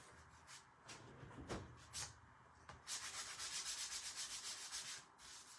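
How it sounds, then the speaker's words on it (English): A rough craft piece for lighted Easter decor is sanded by hand. A few separate rubs come first, then a steady back-and-forth scratching close by, with no voices. "I think I'm going to sand that just a smidge"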